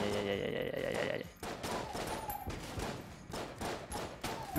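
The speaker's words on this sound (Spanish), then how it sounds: "Mucho disparo, mucho disparo." Dense, sustained gunfire from the twin-stick shooter Enter the Gungeon, rapid overlapping shots and thuds filling the whole stretch at close, loud level with no talk over it.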